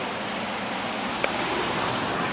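A man-made waterfall pours in a steady, even rushing hiss, close and constant, with no voices.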